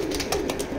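A pigeon coos in short, soft repeated pulses, close by and steady for a brief moment, with no voices.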